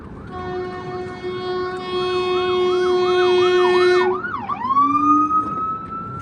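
An ambulance siren wails loudly and close by, sweeping up and down in a steady cycle, then switches to a rising whoop, with a traffic rumble underneath and no talk.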